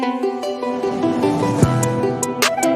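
A sustained, droning sound effect with a layered tonal texture, holding steady for a few seconds, punctuated by a brief low thump and bright crisp hits.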